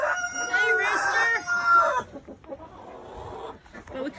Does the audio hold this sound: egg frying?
no